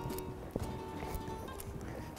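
Horse walking in a dressage session, hooves falling in a steady, even cadence, faint and distant under background noise.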